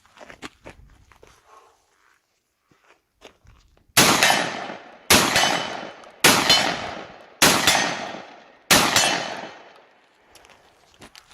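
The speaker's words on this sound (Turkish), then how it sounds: "Ondan sonra da 20 kalibreyle birkaç tane daha atış yaparız." Five loud 20-gauge shotgun blasts fire outdoors at roughly one-second intervals, each a sharp crack with a decaying tail, preceded by quiet handling clicks and shuffling.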